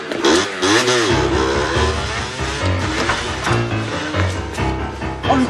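A motorcycle engine revs hard and accelerates away, rising and falling in pitch over several seconds, loud and close, with some clatter mixed in.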